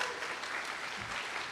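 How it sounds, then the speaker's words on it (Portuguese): A church congregation applauding first-time visitors, a dense wash of many hands clapping steadily throughout, loud and close. "Uma salva de palmas a esses irmãos."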